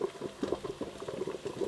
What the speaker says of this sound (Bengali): এই দেখুন কীরকম জল ফুটছে